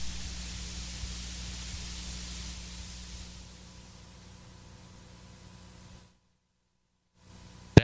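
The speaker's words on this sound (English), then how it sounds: "That humming right there, that's my computer" A computer hums steadily in a home podcast setup, picked up by the microphone as a broad hiss with a low electrical drone. The noise fades partway, then drops to near silence before a short click.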